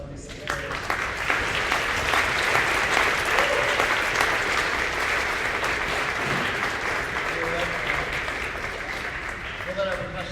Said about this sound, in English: How about another round of applause for these 6th graders?